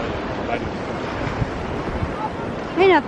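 Ocean surf on a windy beach at Laguna Beach, California, a constant wash of waves mixed with heavy wind buffeting the microphone, and a short vocal sound near the end.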